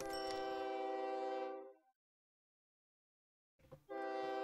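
A train in the OpenTTD video game sounds a sustained harmonic horn blast that fades into silence, then a second horn blast starts abruptly near the end, with no speech.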